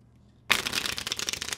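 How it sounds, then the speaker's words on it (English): A deck of playing cards is bridge shuffled after a short silence, giving a sudden loud burst of rapid riffling flutters that continues steadily and close up. "A lot of bridge shuffles"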